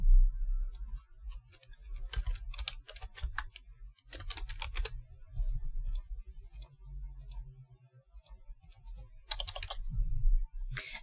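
Fingers tap a computer keyboard in bursts of quick clicks and pauses, entering credit card details at a concession point-of-sale terminal; the typing is close and fairly quiet, with no voices.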